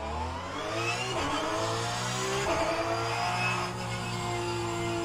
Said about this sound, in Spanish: me pasa una cosa muy parecida con este sonido de este coche